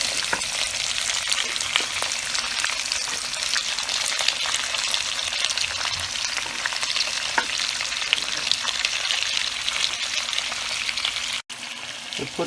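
Onion frying for a rabbit ragu in a Teflon-coated wok: a loud, dense, continuous hiss with scattered stirring clicks and no talk, dipping briefly near the end.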